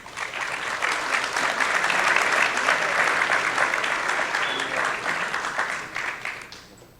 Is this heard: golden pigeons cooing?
no